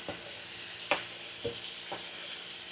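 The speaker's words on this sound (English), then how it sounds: "So we'll throw this onion in." Chopped onion sizzling in butter in a hot pan, cooked outdoors in a parking lot in Arizona: a steady loud hiss and crackle with a few brief stirring scrapes, close up.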